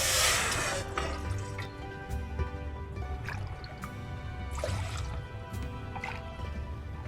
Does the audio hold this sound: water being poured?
yes